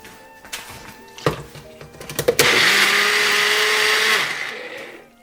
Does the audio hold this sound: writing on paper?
no